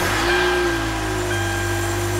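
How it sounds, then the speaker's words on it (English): A Kia Soul's engine running at a steady idle just after the push-button start, with a constant low hum that holds evenly throughout, no voices present. "go ahead and start the car for me"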